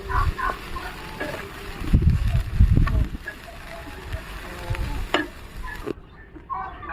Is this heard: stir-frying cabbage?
yes